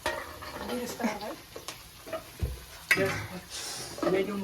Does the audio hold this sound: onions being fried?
yes